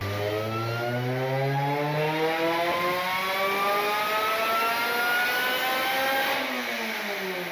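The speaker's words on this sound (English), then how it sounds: "You can really hear that supercharger whine, guys." A supercharged 8th-generation Honda Civic Si with a quiet exhaust revs hard, its steady high-pitched supercharger whine rising with the engine note and continuing loudly throughout.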